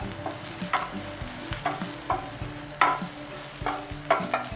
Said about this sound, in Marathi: आपल्याला गवारीचा थोडासा कलर बदलेपर्यंत परतून घ्यायचं आहे.